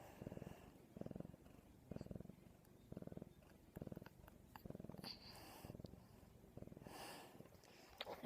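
A pet cat purrs close up in a steady rhythm of repeated low pulses, roughly one per second, with faint sniffs and small snorts near the end.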